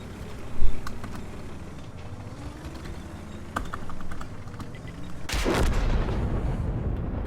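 Artillery fire in a tank video game: scattered faint distant shots over a low engine drone, then one loud booming artillery blast near the end followed by a rumbling tail.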